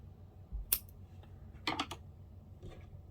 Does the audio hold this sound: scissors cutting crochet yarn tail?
yes